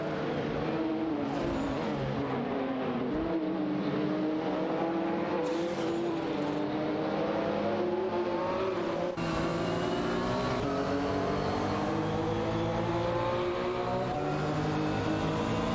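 Race car engines in a video game race drone and whine continuously, pitch rising and shifting as cars accelerate and pass, loud and dense with overlapping motors and no voices.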